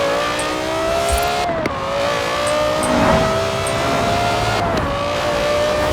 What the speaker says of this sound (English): It sounds just like an F1 engine.